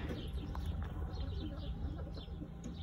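Pigeons on a farm coo in low, soft murmurs, several overlapping calls repeating against a dull background rumble, fairly close, with no talking.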